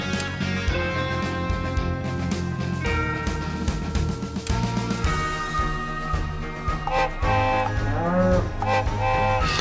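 Cartoonish cattle moo effects from the Adventure Communist mobile game, a Wild West cowboy event, heard among busy game music and jingles, several lowing calls rising out of the dense, continuous mix.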